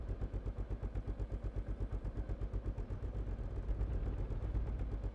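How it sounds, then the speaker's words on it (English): Rapid, rhythmic bursts of gunfire in the survival video game SCUM: a steady stream of evenly spaced shots, like automatic fire, keeps going through the whole stretch with no talking. "Difficult to tell how far the gunshots are away in this game."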